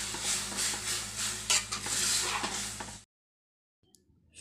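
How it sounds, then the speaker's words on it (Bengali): Jute greens with dried shrimp are stirred in a hot pan, giving a loud sizzle mixed with scraping strokes for about three seconds. The sound then cuts to near silence, followed by a faint clatter at the end. "এবার আমি শাকটা ঢেলে দিলাম।"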